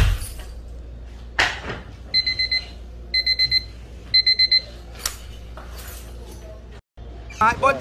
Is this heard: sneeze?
no